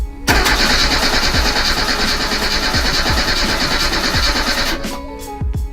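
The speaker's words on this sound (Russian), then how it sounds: "Ну что, попробуем покрутим." Starter cranking a Reliant Robin engine, a loud close rapid chugging whir with rhythmic compression pulses that runs steadily for several seconds without firing, then cuts off abruptly.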